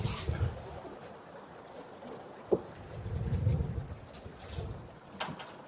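Breezy wind buffets a sailboat running under mainsail alone, gusting in low rumbling swells against the microphone with a sharp knock midway and some water wash underneath.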